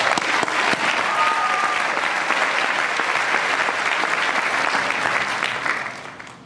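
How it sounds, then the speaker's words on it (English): Sustained applause from a large crowd at a school commencement, steady and dense for several seconds before tapering off at the end. "Again, round of applause."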